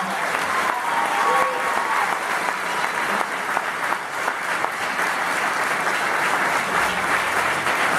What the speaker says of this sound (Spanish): Bien fuerte el aplauso para ella